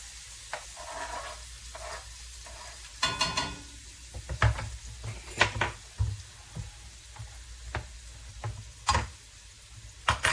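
Vegetables sizzle in a frying pan with a steady low hiss, broken by scraping and clacking of a utensil stirring them, close and fairly quiet with no talk.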